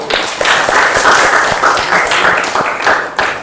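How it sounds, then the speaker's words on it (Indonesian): Students in a classroom applaud together after a lesson, a dense, steady patter of many hands that holds for a few seconds. "Tepuk tangan untuk semuanya."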